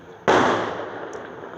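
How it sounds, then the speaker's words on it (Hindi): A firecracker goes off outside with one sudden sharp bang followed by a long, rumbling, fading tail that carries on for over a second, loud and without talking. "यहाँ पर जो है पटाखे फोड़ रहे हैं ना"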